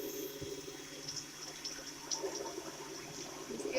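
A liquid soap mixture is poured in while being stirred, giving a soft, steady liquid trickle with faint splashy ticks, low and close.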